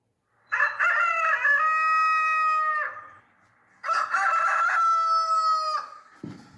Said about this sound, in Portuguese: É o galo!